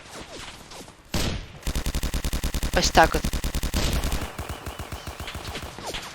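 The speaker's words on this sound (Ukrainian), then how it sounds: "І дивіться, як ця зброя стріляє." Gunfire from a weapon in the Roblox D-Day video game crackles in rapid automatic bursts, loud and close, after an opening single blast, while a person speaks briefly over the shots.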